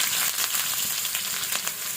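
Chopped onion fries in a little oil, a steady close hiss of sizzling with faint scraping stirs breaking through, no voices.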